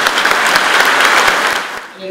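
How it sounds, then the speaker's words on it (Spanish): Audience applause in a university hall, steady dense clapping throughout at a loud, close level, easing off slightly near the end. "yo creo que debemos darle un aplauso para el señor"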